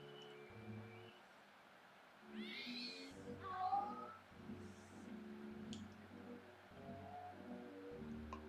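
A stray cat meows in a Super Nintendo game, with short synthesized chiptune cries over a looping electronic background melody.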